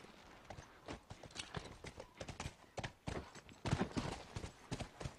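Horse hooves clip-clop at a steady walking rhythm in The Last of Us video game, fairly close and moderately loud, with no talk over them.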